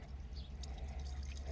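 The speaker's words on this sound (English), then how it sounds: "I'm just pouring it right down where my shifter went" Seafoam Trans Tune additive poured by hand down the open shifter hole of a Jeep TJ transmission, a soft, steady trickle of liquid heard close and fairly quiet for about a second and a half.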